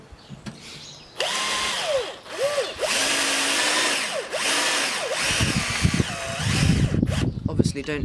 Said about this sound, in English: if we drill down there it'll be the same depth.